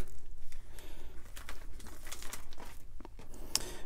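Pages of a sticker book handled up close, giving papery crinkling, rustling and a few sharp flicks spread unevenly over a few seconds, moderately loud with no talking.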